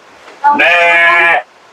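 A single sheep bleats once, loud and close, a sustained wavering call of about a second standing alone.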